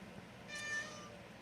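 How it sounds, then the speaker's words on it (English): A house cat meows once, a short, fairly close call rising out of quiet room tone and fading within about half a second. "Cat decided to pay a visit."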